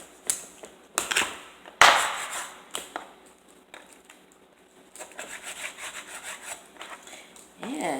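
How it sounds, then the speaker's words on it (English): A knife working through a raw chicken breast while butchering a whole chicken into pieces, giving irregular scraping, rubbing strokes and soft taps against a board, close and fairly quiet, with no talking. "the breast is big, so it gets to be cut into more pieces"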